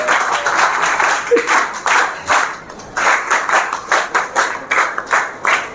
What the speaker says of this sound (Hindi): मेरे को लगा लोग ताली बजाएंगे